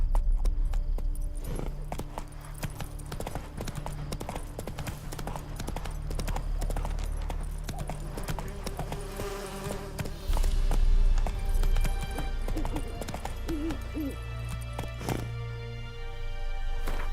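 Roach, Geralt's horse in The Witcher 3, gallops in a steady, fast clip-clop that runs close and loud, with a brief whinny near the end and a faint rattle of gear.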